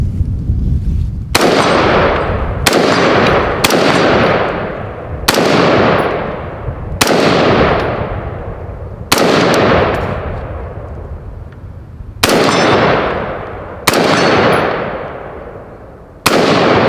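Roughly ten loud, close gunshots fired at a red steel plate target, spaced a second or two apart, each with a sharp crack and a long ringing decay, with no talking.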